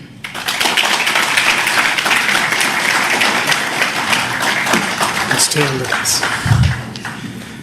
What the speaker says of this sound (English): Request all of you to give him a warm round of applause for this momentous announcement.